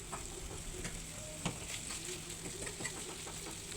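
Frozen minced meat broken apart in a hot frying pan, a constant close sizzle with light scraping and prodding taps running through it.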